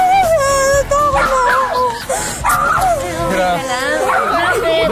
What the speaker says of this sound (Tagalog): Nag-aaway na rin yata mga dogs.